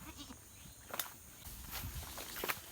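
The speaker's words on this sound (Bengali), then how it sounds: "এই যে রাম ছাগলের বাচ্চা" A young goat kid on a rural Bangladeshi homestead gives a few faint, short bleats amid soft rustling and shuffling footsteps, quiet and somewhat distant.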